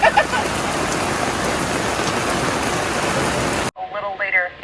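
Heavy rain pours steadily at a campsite, a dense close hiss that cuts off abruptly near the end, followed by someone speaking.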